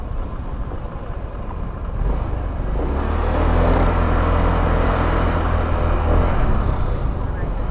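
A car passes close by on a road at Verdant Square in Carmona, Cavite, its engine rumble swelling from quiet to a loud, steady low roar over several seconds.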